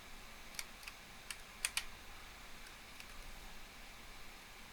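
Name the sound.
computer keyboard typing while playing Farming Simulator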